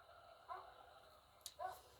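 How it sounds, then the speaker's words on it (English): Two faint, distant dog barks in the Van Helsing video game sound about a second apart over a quiet, steady background hum. "we've got a sound of some dogs barking"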